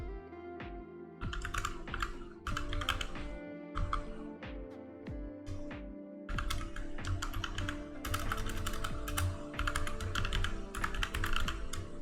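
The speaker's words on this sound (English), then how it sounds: "I know that I am typing in that username and password correctly." Someone types a username and password on a computer keyboard in rapid bursts of clicky keystrokes with short pauses between words, close and clear with no talking.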